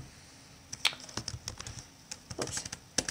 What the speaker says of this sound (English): you go to terminal, then you type in Emacs